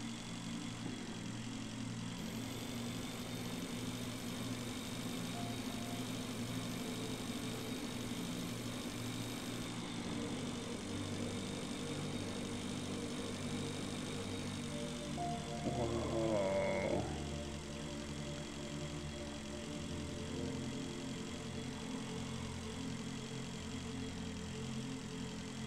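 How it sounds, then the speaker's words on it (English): Low, steady mechanical hum of spaceship engines in the space survival game Breathedge, a continuous drone with layered tones throughout and a brief louder swell partway through. "This is all the engines and stuff."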